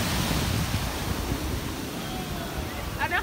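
Ocean waves wash onto a beach in the Dominican Republic with a continuous, close roar, mixed with gusting wind buffeting the microphone.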